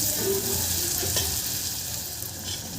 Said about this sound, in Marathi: हे टमाटरसुद्धा आपल्याला 2-3 मिनटं परतून घ्यायचे आहे